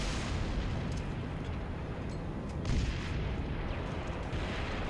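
Tank cannon fire and battle in Halo Reach form a dense, continuous roar of rumbling blasts and explosions, loud and unbroken throughout, with one slightly heavier boom near the middle.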